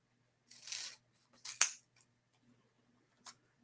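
Scissors cut paper in half with a few crisp snips and rustles, close and quiet, separated by short pauses, with no voices.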